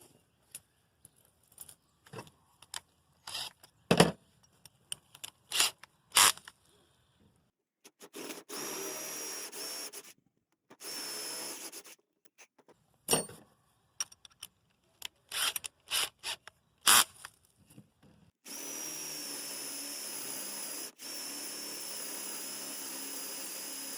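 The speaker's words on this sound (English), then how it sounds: "We're going to create a countersink, and then we're going to finish the hole with the 1/2 inch paddle bit." Paddle bits drill a countersink and then a half-inch hole while making a DIY brake caliper piston compression tool, giving short bursts of grinding, rasping spin separated by pauses and ending in a longer steady run, loud and close.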